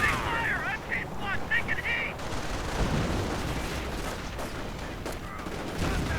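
Video game battle with Panzer Grenadiers and heavy machine guns: dense, crackling gunfire and distant explosions roll on continuously, with a voice talking over the fighting.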